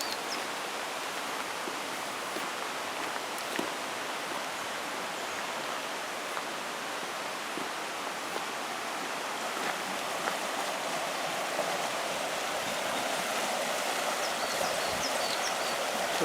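A Cornish river runs through a narrow channel beneath a railway, giving a steady, even rush of flowing water that holds at a moderate level throughout with no voices.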